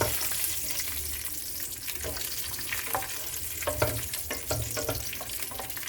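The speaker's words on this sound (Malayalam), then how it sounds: "ഇതിലേക്ക് നമുക്ക് കാഷ്യൂനട്ട് ചേർത്ത് കൊടുക്കാം." Cashew nuts fry in two tablespoons of ghee in a pan for payasam, giving a continuous close sizzle with scattered crackles and pops and occasional stirring scrapes.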